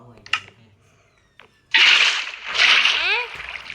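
Water pours and splashes in the video game Granny Chapter 2 (Craftman): a few faint clicks come first, then a loud, sustained gush and slosh that carries on to the end.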